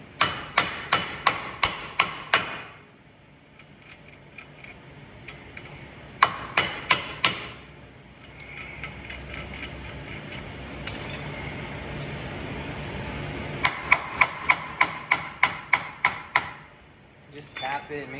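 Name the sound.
hammering a nut on an axle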